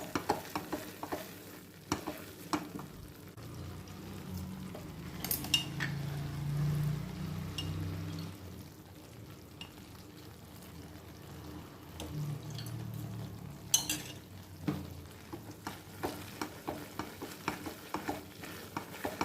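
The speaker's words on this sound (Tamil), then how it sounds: "கை விடாமல் கொஞ்சம் கிளறணும்." A thick Mysore pak mixture of gram flour and ghee is stirred continuously in a pan, a low bubbling sizzle with quiet rhythmic scraping strokes throughout.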